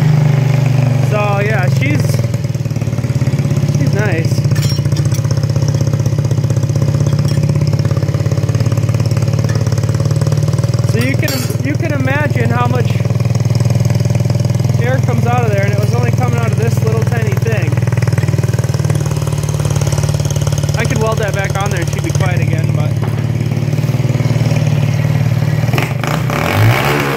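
Air-cooled motorcycle engine with a loud exhaust pipe runs steadily up close, a deep constant rumble with a few short revs, while people talk over it.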